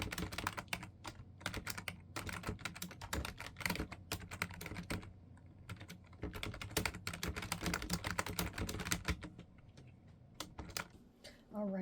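Rapid, irregular clicking of computer keyboard keys during a writing session, continuous close tapping with brief pauses, fairly quiet.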